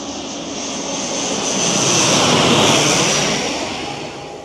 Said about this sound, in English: we've got the first plane coming in from here